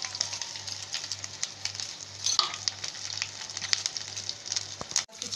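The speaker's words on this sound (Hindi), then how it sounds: "और दो सूखा चिल्ली, लहसुन, इसको हल्के से फ्राई करेंगे" Dry chillies and garlic fry in oil with a steady, close crackling sizzle, broken by occasional sharp pops and stirring scrapes, and a low rhythmic hum pulsing underneath.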